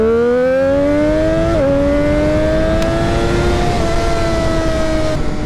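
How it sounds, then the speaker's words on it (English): A vehicle engine throttling up, a loud close whine that climbs steadily in pitch, dips briefly, then holds high and keeps rising with no voices. "So what I'm about to do is throttle up"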